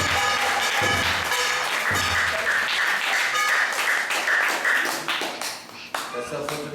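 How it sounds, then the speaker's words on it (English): Applause from a temple congregation at an ISKCON Sunday class in Atlanta, a steady wash of many hands clapping close and loud throughout, with a brief dip near the end. "let's give a round of applause for this Hanuman Prasad"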